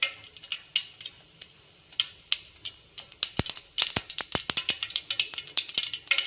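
Cumin and mustard seeds fry in hot oil for a cucumber palya, crackling and popping close by in sharp, irregular bursts. The pops grow denser and faster toward the end, with no one speaking.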